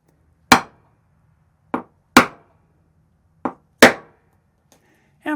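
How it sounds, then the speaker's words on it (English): Five sharp metallic whacks of a hammer on a snap setter fixing a snap to a leather drawknife sheath, irregularly spaced and ringing briefly, loud and close. "And we give it some whacks with a hammer."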